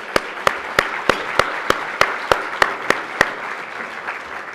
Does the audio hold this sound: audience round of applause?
yes